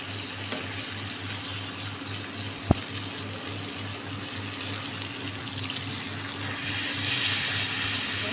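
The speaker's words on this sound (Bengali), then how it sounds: "এবার আমি আবার পানি দিয়ে দেবো" Water runs steadily into a pot of taro curry with prawns, a soft, continuous pouring with one sharp click partway through.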